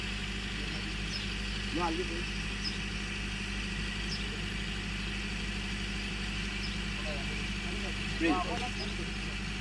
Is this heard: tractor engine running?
yes